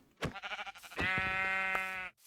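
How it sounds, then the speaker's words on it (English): A Minecraft sheep bleats twice in quick succession, a short wavering cry followed by a longer, steady nasal baa, close and clear with no talk over it. "But here's sheep number 3."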